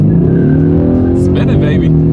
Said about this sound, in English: let's see how quickly we can get our new 2024 Ford Mustang EcoBoost here up to speed